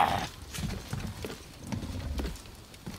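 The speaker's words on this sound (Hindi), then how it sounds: "ये घोड़ा है, गधा है, ऊंट है" Horse-like animal hooves clopping in the God of War video game, a quick irregular series of soft thuds over a muffled in-game background.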